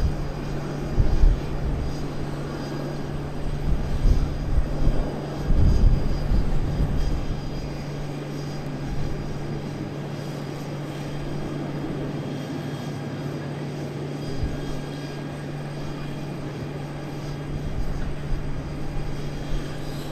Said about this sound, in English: So they've got aircraft once again heading out on